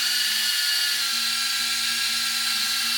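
A polisher run at half trigger on the paint of a custom 1956 Chevy, giving a steady high whine with a constant hum underneath, close and continuous without a break.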